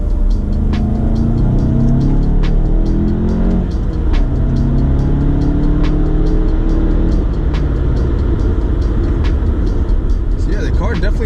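A 2018 VW GTI pulls hard in second gear from a 30 roll on the Autobahn, its engine note climbing loud and close in repeated rising sweeps over steady road and wind roar.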